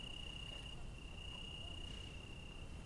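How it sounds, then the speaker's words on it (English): Crickets chirp after dark as a steady, faint, unbroken high trill over quiet outdoor background hiss. "The crickets came out because it got dark."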